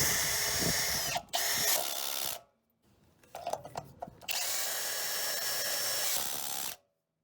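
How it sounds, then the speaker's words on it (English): A power drill with a socket adapter drives self-tapping screws into a steel I-beam, whining loudly in two long, steady bursts with a short pause of clunks and rattles between them, close up. "drive the self-tapping screws in with a drill and a socket on an adapter"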